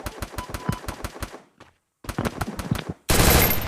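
Rapid automatic gunfire in a Free Fire match as Chen Long jump-shoots, loud close bursts of regular shots, a brief silent gap, then more bursts and a dense blast of noise at the end.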